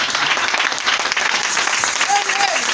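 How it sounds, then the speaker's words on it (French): A church congregation applauds the Lord at a sermon, with loud sustained clapping filling the room and a voice speaking over it. "Acclamez le Seigneur là-bas."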